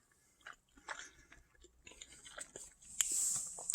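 Crunchy Cap'n Crunch Oops All Berries cereal in milk being chewed up close, with scattered soft crunches and mouth sounds and a louder wet crunching burst near the end, no talking.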